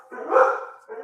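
A dog barking near a house, one drawn-out bark that swells and fades, then a shorter follow-up yelp, close and fairly loud.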